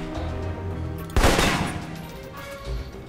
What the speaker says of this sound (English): Long-range encounters? The assault rifle's the key.